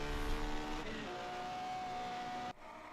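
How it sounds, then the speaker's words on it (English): A 1950s Ferrari Grand Prix race car screams down the main straight at Rouen, its engine note droning loud and steady with a shift in pitch, then cutting off abruptly. "Fabulous engine sound of this Ferrari."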